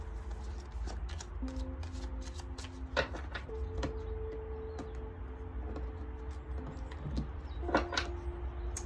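Tarot cards riffled and slid from a deck on a table, giving soft papery flicks and a few sharper snaps over a steady low hum, close and fairly quiet.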